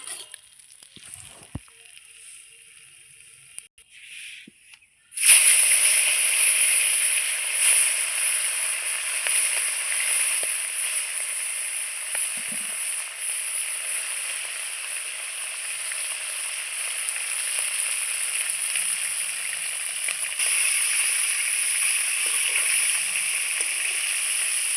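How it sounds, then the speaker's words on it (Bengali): Pieces of snakehead fish fry in hot oil in a home kitchen, a loud, dense, continuous sizzle that bursts in after a quiet start and then holds steady nearby. "এই দেখুন আমি এদিকে মাছ ভাজতে ভাজতে আমি বাটনাটাও করে নেব।"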